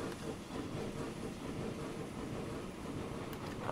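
Trains run in the Transport Fever 2 simulation game, a faint, steady rumbling rail noise with soft rhythmic clatter that continues evenly throughout, without talk.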